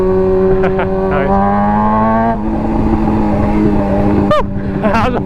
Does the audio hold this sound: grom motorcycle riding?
yes